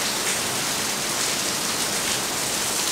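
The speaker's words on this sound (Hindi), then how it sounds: "बारिश बहुत भयंकर टाइप की हो रही है" Heavy monsoon rain pours down steadily outdoors among trees, a dense, loud, unbroken hiss with no pauses.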